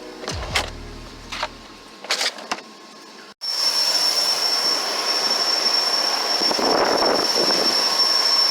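A small private jet's engine at Washington Dulles Airport gives a loud, steady whine and roar on the tarmac, heard after a few sharp knocks and a brief cut.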